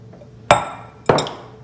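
Chickpeas are tipped into a salad bowl in two sharp clattering bursts about half a second apart, each a bright hard rattle against the bowl that quickly decays into quiet.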